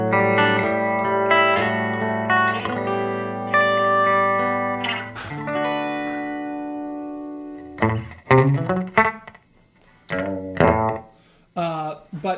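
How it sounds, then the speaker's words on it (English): Electric guitar played through a Deco pedal set to a short slapback echo, with fuzz switched off; sustained chords ring out first, followed by choppier picked notes, each trailed by a quick single repeat. "one of my most common sounds on the Deco is this kind of slap back"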